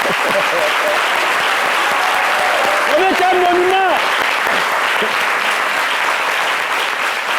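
Studio audience applauds a guest actress on a French midday television talk show, a dense, steady wash of clapping that holds loud and even throughout, with a brief voice cutting through near the middle.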